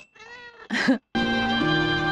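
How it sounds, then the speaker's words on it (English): A cat meows several times in a film soundtrack, with a short plaintive call followed by louder drawn-out meows set against a faint steady background tone. "Take the cat, too."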